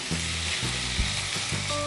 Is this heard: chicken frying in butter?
yes